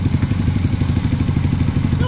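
A Honda Pop motorcycle with a 190cc long-stroke engine runs loud and close, a rapid, even low-pitched thumping idle that continues throughout.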